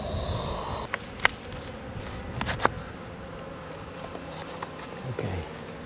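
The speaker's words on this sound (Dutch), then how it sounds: "Er zijn wel een paar bijen." A handful of bees buzz close by, a fuzzy, steady insect drone with a few scattered soft taps and rustles, heard alone without talk.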